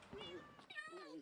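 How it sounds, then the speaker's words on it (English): Several cats in Minecraft meow in quick succession, two or three clear, close meows with rising and falling pitch, one after another. "doesn't like the never-ending meowing over here"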